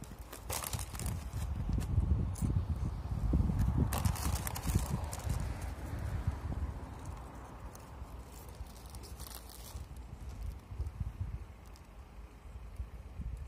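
A horse trotting outdoors on a sunny mountain picnic spot, its hooves clip-clopping in a steady, fairly close rhythm over a low rumble of ambient noise.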